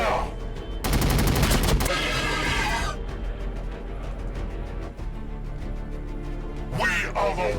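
Rapid gunfire bursts from the Warhammer 40,000 Battlesector strategy game, a loud dense volley early on that settles into a sustained rumble of distant battle, with shouted voice lines and a brief horse-like cry near the end.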